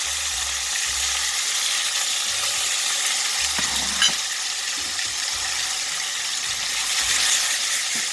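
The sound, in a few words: salmon fish frying in mustard oil in a pan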